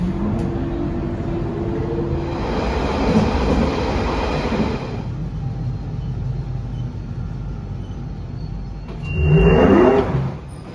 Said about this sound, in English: we're going to get the central line train to West Ruislip